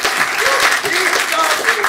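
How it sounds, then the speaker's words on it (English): Audience at a student improv showcase clapping steadily, a dense patter of many hands filling the short stretch, with voices calling out over it. "Please get your hands clapping."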